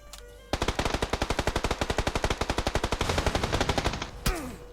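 A long rapid burst of automatic gunfire in the battle royale game PUBG on the Erangel map, loud and close, with even fast rounds lasting about four seconds and then a single sharp shot after a short pause.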